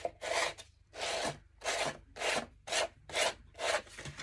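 Hand sanding of a solid wood plaque base, seven rhythmic back-and-forth rasping strokes, close and fairly quiet with short pauses between each pass.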